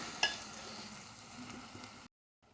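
Bitter gourd with ginger garlic paste fries in a pan, giving a steady, fairly quiet sizzle with a small clink near the start, then cutting off abruptly into near silence.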